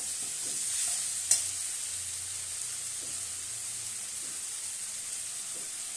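Tomato masala sizzles softly in a frying pan as a spoon stirs it. A steady hiss runs underneath, with one sharp clink and a few faint scrapes, close and quiet, and nobody speaks.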